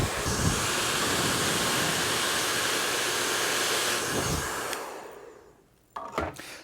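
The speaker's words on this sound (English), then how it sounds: "So I'm going to continue to dry the fringe" A hair dryer blows steadily and loudly, close up, while a curtain-bang fringe is dried with a comb, then switches off near the end, followed by a few soft handling clicks.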